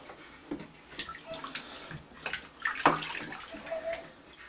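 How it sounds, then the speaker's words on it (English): A two-month-old baby being bathed in a tub, soft close splashes and water sloshing in scattered bursts, with a bright drip-like splash in the middle. "Little man's having his bath."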